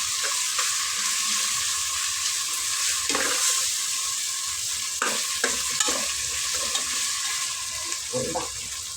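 Tomatoes and ginger-garlic paste sauté in a pan with a steady broad sizzle, broken by several sharp scraping stirs of a spatula, close and fairly loud, no voices.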